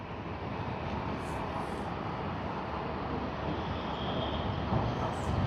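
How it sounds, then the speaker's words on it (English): Broad, steady roar of a Qantas airliner arriving from Adelaide and landing at Sydney Airport, a continuous engine rumble that swells slightly toward the end, heard from a distance. "What you see on screen is a Qantas service coming in from Adelaide"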